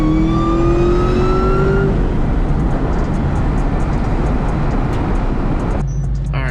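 A car engine fitted with a Wot Box two-step revs loudly and roars steadily close by while warming up the exhaust, its pitch climbing at first before settling into a sustained growl.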